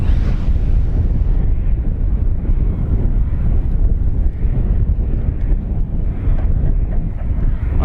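Steady loud wind blowing into the microphone at a grass flying field during a HobbyZone Husky SE 1800mm RC plane maiden flight, a continuous low buffeting roar with no talk.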